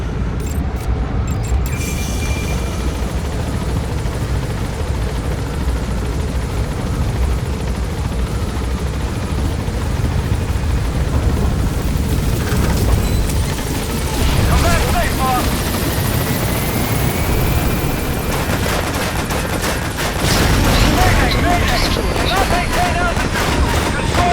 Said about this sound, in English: You shot down the chopper.